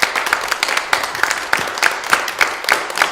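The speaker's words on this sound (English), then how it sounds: "a last round of applause for these 4 fantastic people" An audience claps in a round of applause at the close of an artist Q&A event in Glasgow, with steady, sparse-sounding hand claps repeating through the clip at moderate loudness.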